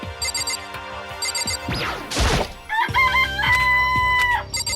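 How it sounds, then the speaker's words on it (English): Cartoonish chicken clucks and crowing from the Danganronpa video game, loud game sound effects with ringing electronic chime tones and a rushing swoosh midway, no talk. "It's a chicken."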